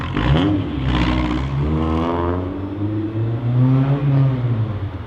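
Honda Civic Type R EP3 exhaust fitted with a Spoon bung, revving up and falling back in smooth rising and dropping sweeps, fairly muted, close by and with no talk over it.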